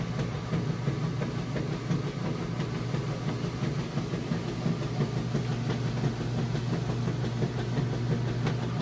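A Maytag washer agitates clothes with a continuous low mechanical drone and repeated soft knocking from the back-and-forth motion, steady and close throughout with no voices.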